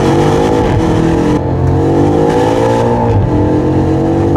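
A BMW M5 F90 engine heard from outside, roaring loud and steady with rich harmonics that rise and fall as the revs change, with no talk over it.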